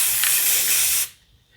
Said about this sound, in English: We're going to give that a quick squirt.